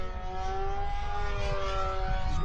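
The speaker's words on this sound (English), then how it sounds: "Look at it floating in. Oh, it's so cool. Flies so well. Such a light aircraft." A small ARROWS RC Pioneer 620mm beginner remote-controlled plane glides in to land, its electric propeller motor giving a steady, close buzzing whine with sustained tonal harmonics throughout, no talking.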